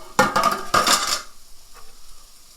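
Sausage cooks in a warmed, oiled pan as a utensil stirs it with two quick metallic scrapes and clatters, then the sound fades to a quiet background.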